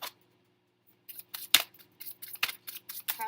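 Tarot cards are drawn and shuffled during a reading, giving sparse, crisp snaps and slides after a short silence, near and fairly quiet with no talk.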